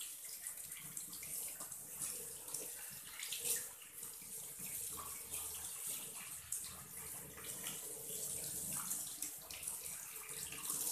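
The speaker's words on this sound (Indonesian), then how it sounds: "kemudian kita melakukan bilas" Running tap water pours steadily into a sink as hands are rinsed clean after handwashing, a continuous broadband splashing that stays fairly even and close for the whole stretch, with no talking.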